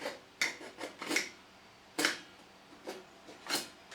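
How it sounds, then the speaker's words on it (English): A digital caliper scoring a scribe line across a workpiece, a faint, close scratching and scraping in short strokes with brief gaps between them, quiet with no talking. "I'm just going to use the digital caliper and I'm just going to score it all the way across"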